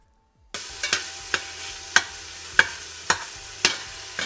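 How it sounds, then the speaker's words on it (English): Bacon strips frying dry in a pan with no oil over medium-high heat, a steady crackling sizzle broken by regular sharp scrapes or tosses about every half second, close and fairly loud with no talking. "I'm just going to turn this on medium-high heat, and just until it's nice and crispy and cooked through"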